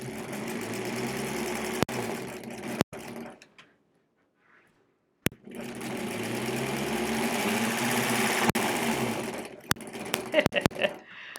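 A 1938 Kenmore Model 38 sewing machine sewing a seam, running steadily in two long bursts split by a silent pause, with sharp clicks and knocks in between.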